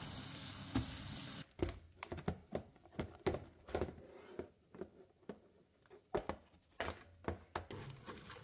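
Garlic frying in butter in a pan, a soft steady sizzle broken by clinks and taps of a utensil stirring, fairly quiet and close with no talk.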